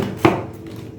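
A single sharp knife chop through cabbage on a board, close and brief, followed by quiet kitchen background.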